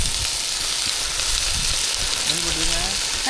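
Onions, garlic and tomato fry in a pan for a kuzhambu, giving a dense, continuous hiss of sizzling oil that stays close and even throughout, with a voice briefly heard near the end.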